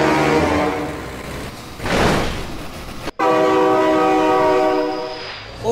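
Train horn blaring in long sustained chords in BeamNG Drive, with a loud rushing sweep of a passing train midway, a sharp cut, then the horn returning strong and steady.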